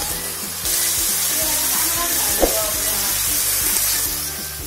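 Water poured into a pan of sizzling beef stir-fry: a loud, steady sizzle erupts and holds, with a brief splash midway and a constant hum beneath.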